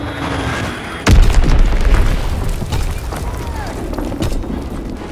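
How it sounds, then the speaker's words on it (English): A loud enemy bomb explosion in a World War 2 shooter game bursts in with a sudden deep boom, then rumbles on amid continuing battlefield noise and a game voice announcement. "Enemy bomb incoming."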